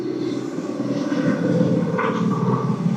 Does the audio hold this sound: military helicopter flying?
yes